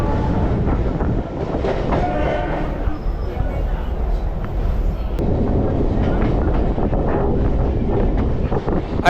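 A Chennai suburban train rumbles steadily along the rails from Egmore toward Tambaram with a continuous low roar and wind buffeting, while a voice talks over the noise.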